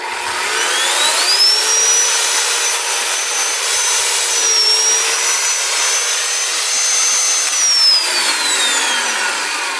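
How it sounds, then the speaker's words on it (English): A 14-inch 13.5 amp electric chainsaw runs close and loud at a cabin, a continuous high motor whine with its pitch dipping under load midway and again near the end, no talk. "I think it's a 14-inch chainsaw, electric chainsaw"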